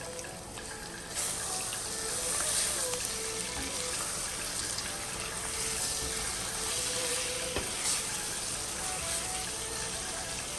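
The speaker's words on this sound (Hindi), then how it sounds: "ये मैंने 2 टमाटर लिए हैं, इनको काट लिया है, ये हम डाल देंगे।" Chopped tomatoes added to beef keema frying in a pan, with a steady, moderately loud sizzle and hiss running throughout and a faint clatter partway through.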